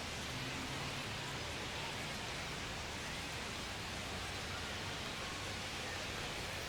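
Steady rain pours down during a baseball game in MLB The Show 25, a dense, even hiss of falling water that holds for the whole stretch with no voices over it.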